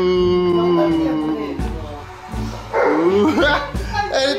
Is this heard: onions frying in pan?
no